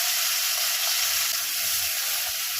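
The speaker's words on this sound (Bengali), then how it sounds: "চিংড়ি মাছগুলো একটু ভেজে নেব।" Small prawns fry in a pan for a Bengali pui shak dish, giving a loud, continuous hiss of hot oil with no break.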